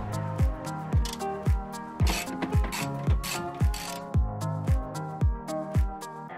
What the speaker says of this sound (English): Some bolts come out easier than others, as you can see, so just persist until you get them all out.